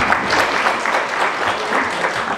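Audience applause at a SuperLife Namibia gathering with Maria Lukas, steady dense clapping from a crowd throughout, fairly loud and close with no talk over it.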